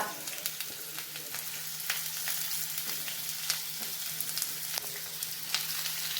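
Garlic and onion frying in oil for a squid roast, a dense steady sizzle close by with occasional crackles and faint stirring clicks over a low hum.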